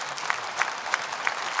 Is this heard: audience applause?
yes